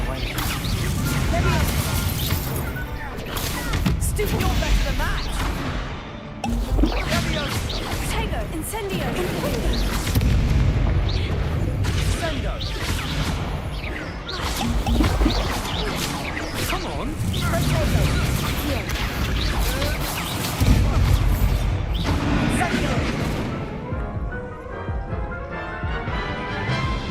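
Confringo and Incendio spell blasts fire off in the Hogwarts Legacy video game, a dense run of whooshes, crashes and booming impacts under near-constant battle noise, with a player talking and shouting throughout.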